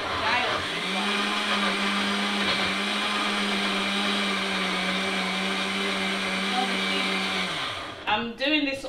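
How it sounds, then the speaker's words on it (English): A compact kitchen blender runs on its chop setting, grinding egusi soup ingredients with a steady, loud whirring drone for about seven seconds before it winds down and stops, followed by a few brief knocks. "I'm actually doing it on the chop setting"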